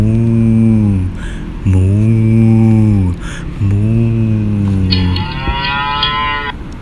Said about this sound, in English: Son, it is a cow.